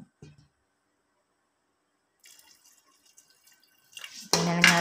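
Water is poured into a cooking pot, a few faint drips and splashes followed by a louder steady pour at the end.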